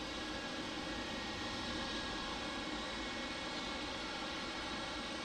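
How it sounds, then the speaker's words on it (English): CRJ 900 jet airliner landing on runway 21 left at Detroit Metro Wayne airport, a steady, loud broadband engine roar held throughout without pause. "on runway 21 left. We get a CRJ 900."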